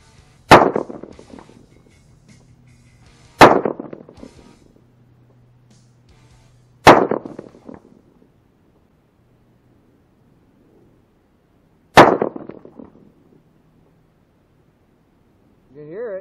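Four rifle shots fired outdoors at a steel plate 200 yards away, each a sharp loud crack with a short trailing echo, spaced several seconds apart, followed by a brief voice at the end.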